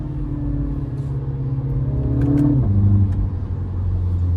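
A Mini Cooper S engine revs hard on a damp road as the wheels spin, a loud sustained engine drone that drops in pitch with a quick short-shifted gear change partway through.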